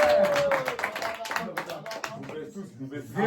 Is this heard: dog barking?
no